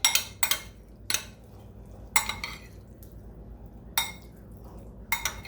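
Shrimp being tossed with olive oil in a dish, a series of sharp clinks and scrapes of a utensil against the bowl in short irregular bursts, fairly close, with quiet pauses between and no talking.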